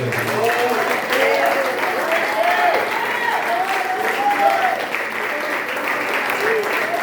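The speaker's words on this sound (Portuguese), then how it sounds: "Não pode dar uma salva de palmas a Deus?" A church congregation at a teaching service breaks into sustained applause, a dense wash of clapping filling the room, with a voice sounding over it.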